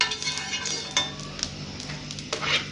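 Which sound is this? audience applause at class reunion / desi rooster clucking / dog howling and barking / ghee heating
ghee heating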